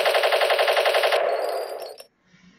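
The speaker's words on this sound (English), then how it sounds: "Machine gun." Rapid, steady burst of machine gun fire from the Desktop Destroyer video game, loud and close, running for about two seconds and then cutting off sharply into near silence.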